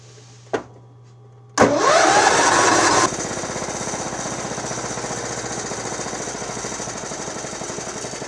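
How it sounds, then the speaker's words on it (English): John Deere STX38 Black Deck Motorsports Edition lawn tractor: a short click, then the engine cranks and catches with a loud roar before settling into a steady idle with a rhythmic mechanical clutch rattle, close up. "That rattle you're hearing is a clutch."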